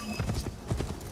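Horse hooves clip-clop at a steady trotting rhythm in the video game Assassin's Creed Shadows, with a series of distinct, moderately loud hoofbeats.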